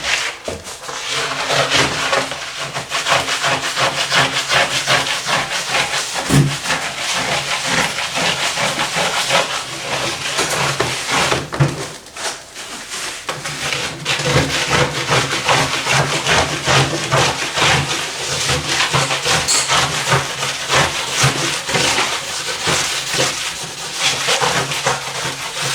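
A credit card scrapes wax off a surfboard in steady, continuous rasping strokes, loud and close, with a brief lull midway before the scraping resumes.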